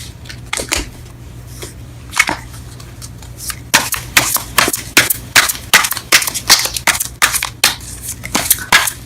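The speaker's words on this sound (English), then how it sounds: "let's go ahead and pull some cards in regards to your reading" Tarot cards being shuffled for a reading, a fast run of crisp, close clicking and snapping card riffles that starts sparse and then grows dense and steady.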